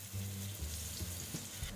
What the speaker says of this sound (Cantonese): 嗱啲薑咧煎到金黃色啦